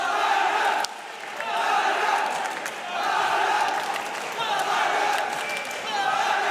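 A roaring tournament crowd cheers and shouts at the final feature match of a Yu-Gi-Oh championship event in Utrecht, loud and sustained with a brief dip before swelling again, dense voices and yelling throughout.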